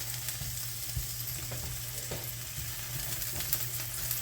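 Cherry tomatoes fry in a pat of butter over medium heat, giving a steady, close hiss of sizzling with faint crackles and no voices.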